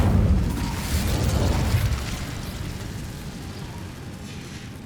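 Incendio fire spell cast in Hogwarts Legacy: a loud, close whooshing burst of flame that hits hard at the start and fades into a crackling, rumbling tail over several seconds, with no voices.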